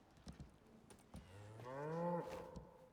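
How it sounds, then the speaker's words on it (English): Cow in the video game Icarus: Olympus letting out a single drawn-out moo that rises and falls, preceded by a few light taps and clicks like keyboard typing. "Junior, it's a cow."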